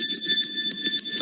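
A synthesized tone representing carbon-12, mapped to a keyboard note, rings out as bright, bell-like pulses repeating at a quick, even rhythm, clear and alone.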